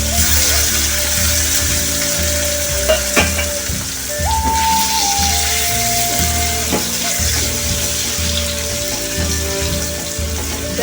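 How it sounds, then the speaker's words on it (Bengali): Paneer cubes frying in oil, browning, for a vegetarian navratan korma, a loud steady sizzle and crackle carrying on throughout with a faint tonal whine in the background and no speech. "একটু লাল করে আমি ভেজে নিচ্ছি। দেখুন পনিরগুলো আমার ভাজা হয়ে গেছে।"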